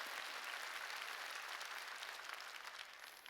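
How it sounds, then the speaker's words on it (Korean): Church congregation clapping together during a sermon, a dense, close wash of applause filling the room for a few seconds and easing slightly toward the end. "박수."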